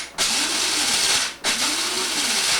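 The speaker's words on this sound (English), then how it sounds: "We're going to grind it up here." Coffee grinder grinding espresso beans in two loud bursts of high whirring, the first longer, separated by a brief dip, close and alone.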